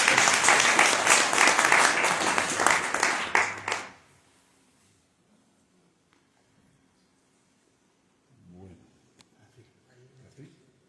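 Audience applause at a book launch for a poetry collection at a book fair, a dense crowd of clapping hands filling the room loudly for about four seconds before cutting off abruptly, then near silence with a few faint stirrings.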